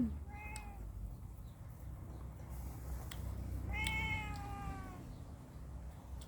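A cat near people eating watermelon gives two clear meows, a short one early and a longer drawn-out one a few seconds later, against a quiet low background hum.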